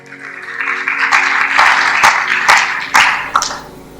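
A sermon congregation clapping loudly together, a thick wash of hand claps that swells and stays strong for a few seconds, with sharper individual claps near the end.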